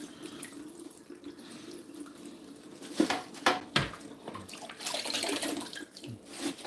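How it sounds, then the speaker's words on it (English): A kitchen tap runs steadily into a sink while coriander is being rinsed, with splashing that changes as the stream hits washed greens and the basin, close and fairly loud, and no speech. "so turn off the water"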